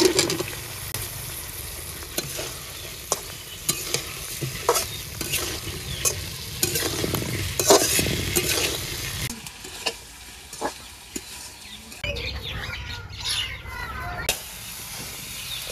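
Flat beans and potatoes sizzle steadily in a pan of spice masala, broken by repeated scraping and stirring clicks, close by, with a brief hissing burst near the end.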